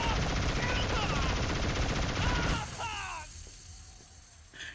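Automatic gunfire aimed at friendly soldiers in the Killzone video game: dense, continuous bursts for a couple of seconds that then break off into quieter mechanical and game sounds.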